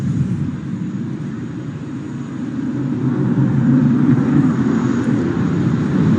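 A HAL LCA Tejas fighter jet flies a display at the Dubai airshow, its loud, steady jet roar holding throughout and swelling slightly toward the end, with no talk over it.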